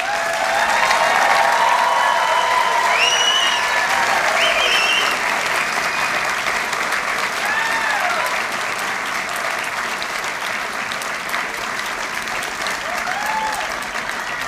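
A large graduation audience claps loudly and continuously for the whole stretch, with a few voices calling out over the dense applause.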